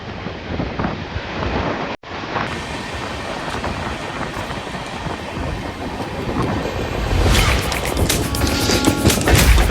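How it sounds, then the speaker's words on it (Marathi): Loud rushing roar of a moving train gathering speed near Hadapsar, Pune, with wind buffeting the microphone and the noise swelling toward the end. "आता ट्रेनने स्पीड पकडली."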